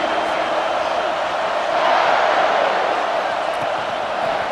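Steady, dense stadium crowd roar from an NCAA College Football 26 game, a broad wash of noise that holds loud and constant and swells slightly midway, with no clear individual voices.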